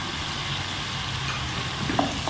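Frozen crushed green chili fries in a pan with a steady, close sizzle that holds evenly throughout, with a faint knock near the end.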